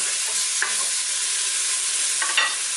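Carrots, onions, mushroom stems and lardons are stirred in a pressure-cooker pot for beef bourguignon: a soft continuous sizzle with a few light scraping clicks of the spoon, close and steady.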